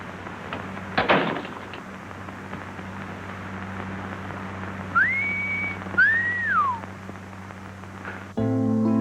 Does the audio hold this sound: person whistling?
yes